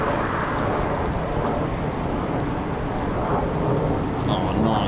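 A Eurofighter Typhoon FGR4 jet taxis at an RAF station, giving a continuous broad rumbling roar at moderate distance that holds steady with slight swells.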